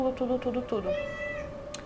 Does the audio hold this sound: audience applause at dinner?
no